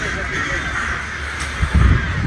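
Many crows caw across a park in Romania, a dense chorus of calls blended with steady outdoor background and a person talking over it.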